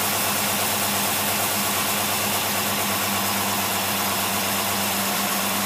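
An engine fitted with a Holley 4780 double pumper carburetor idles steadily, a loud, even, continuous rumble with a fine mechanical vibration running throughout and no voices.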